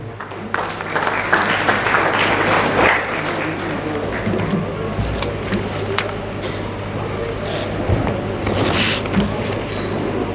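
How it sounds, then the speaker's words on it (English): An audience at a student felicitation function in Goa applauds the Director of Education as he comes on stage, steady moderate clapping from a hall with a low constant hum beneath it. "let us give a big round of applause for the next orator on stage"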